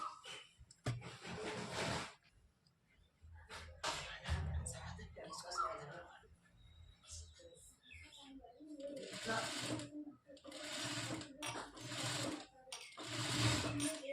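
A sewing machine hems a boat neck blouse in quiet, intermittent runs of stitching whir. A person talks over and between the bursts.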